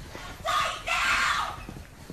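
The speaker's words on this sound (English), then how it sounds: "if you're letting your girl scream at you like this" A woman screams in two bursts at her boyfriend, heard through a played-back video, loud and shrill with a short gap between the outbursts.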